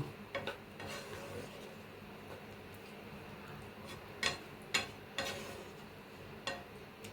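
Spoon stirring turmeric and sugar into a pot of raw papaya sukto, a steady low simmering hiss broken by several sharp utensil scrapes and knocks against the pot, close and moderately quiet with no voices.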